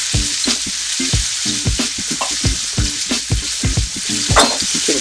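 Steak searing in butter in a hot pan with a steady, loud, close sizzle, broken by repeated crackling pops and spatters.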